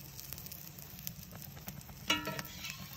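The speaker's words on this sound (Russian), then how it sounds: "Можно жарить пищу, да?" Onion fries in a cauldron during its final seasoning burn, giving a quiet, steady sizzle with scattered crackles and a brief stirring scrape near the end.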